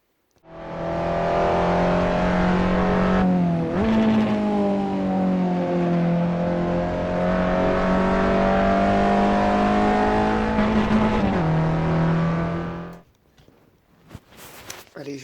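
A car driving on a race track toward a corner holds a loud, steady high engine drone, dipping briefly twice as if shifting before cutting off near the end, followed by scattered small knocks.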